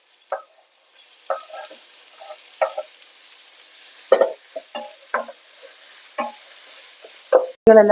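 Chopped tomatoes sizzling in a pan with sautéed onions while being stirred, heard as intermittent soft sputters and scrapes over a faint hiss.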